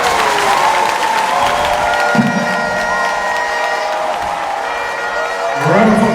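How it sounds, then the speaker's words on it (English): An audience at a political party launch in Ghana applauds loudly and steadily, a thick roar of clapping mixed with crowd noise and cheering, while sustained tones and a voice sound over it. "Round of applause for Dr. Sakara."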